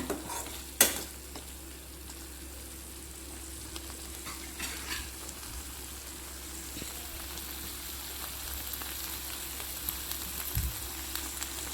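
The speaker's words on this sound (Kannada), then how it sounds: "ಸ್ವಲ್ಪ ಹೊತ್ತು ಫ್ರೈ ಮಾಡೋಣ." Prawns masala frying in a pan, a quiet steady sizzle with occasional faint clinks and scrapes of stirring, one sharp knock near the start, no talk.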